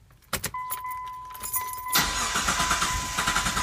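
A Mitsubishi Montero Sport with a fuel pump fault: keys jangle and a dash chime sounds, then the starter cranks in a fast rhythmic churn for about two seconds without the engine catching.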